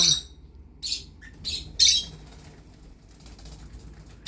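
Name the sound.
pet lovebirds chirping and squawking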